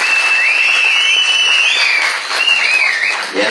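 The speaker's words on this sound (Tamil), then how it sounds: "இயக்குனர் திரு ரவி அவர்களுக்கும் கரகோஷம்." An audience applauds loudly and steadily at the Anjalthurai Tamil film audio launch, with high whistles riding over the clapping throughout.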